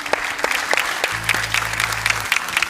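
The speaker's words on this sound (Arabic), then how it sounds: "صفقوا على امين عافاكم." An audience claps for Amin, a young Moroccan inventor, with brisk, irregular claps at close range over a brief low hum.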